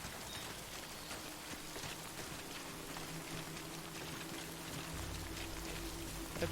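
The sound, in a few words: rain falling in video game Death Stranding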